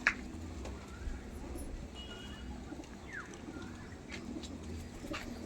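Face of Beauty pigeons coo softly in the background amid low ambient rumble, faint scattered calls rising over a steady noisy bed.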